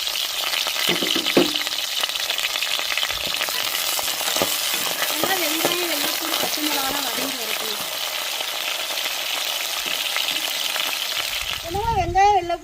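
Garlic, green chillies and curry leaves sizzle steadily in hot oil for a Tamil vatha kulambu, a dense crackling hiss throughout with occasional clinks, and a faint voice briefly audible over the frying.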